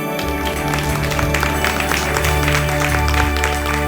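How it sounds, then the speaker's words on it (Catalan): Live audience at a Catalan book-talk podcast recording in Mollerussa, applauding together in a dense, continuous burst of clapping, fairly loud and close, with a few voices mixed in. "L'aplaudiment sona bé, eh? Sona de gent."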